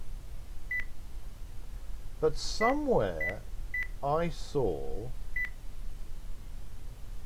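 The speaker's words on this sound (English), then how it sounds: "It is going beep, so the implication is it's doing something." Short, evenly spaced electronic beeps from the Kerbal Space Program video game sound several times at a steady pace, with someone talking over the middle stretch.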